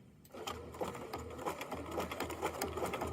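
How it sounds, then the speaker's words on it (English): A sewing machine stitches a zigzag buttonhole, its motor whirring steadily close by as the needle taps in a fast, even rhythm without pause. "We'll keep sewing."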